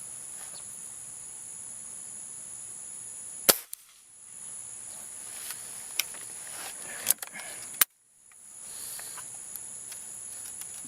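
A Gamo CFX air rifle fires two sharp, loud shots several seconds apart, each a crisp crack followed by a brief hush, against steady outdoor insect and bird background.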